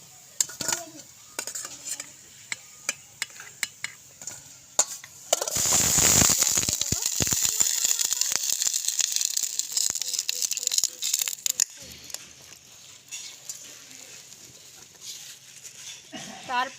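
Fried semolina gulab jamun are lifted one by one out of a pan of hot oil, with a loud sizzling burst midway and scattered clinks of a utensil against the pan before and after.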